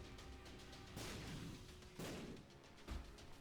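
Echo explosions in The Binding of Isaac go off as three fairly faint booming bursts about a second apart over a busy game soundscape.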